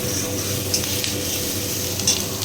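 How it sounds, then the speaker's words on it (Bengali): Food frying in a pan with a steady, fairly loud sizzle, joined by a few faint scraping stirs. "সব কিছু দিয়ে দিয়েছি, আর একটু ভেজে নিচ্ছি"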